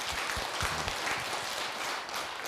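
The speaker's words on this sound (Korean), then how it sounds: "박수." Studio audience applause during a Buddhist monk's televised Dharma talk and Q&A: a steady wash of moderate clapping from the crowd, fairly even in level and without speech.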